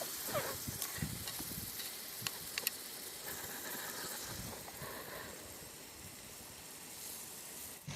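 Onions frying in oil for quail biryani, a steady broadband sizzle with faint stirring clicks, continuous and moderately close, no voices.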